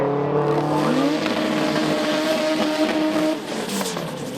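A front-wheel-drive drag race car makes a gentle pass at a drag series event, its engine loud and close with a rising, then steady note that drops off near the end.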